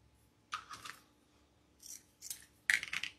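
Scissors cutting wreath bow ribbon in several short, crisp snipping bursts separated by pauses, close and quiet with no talking.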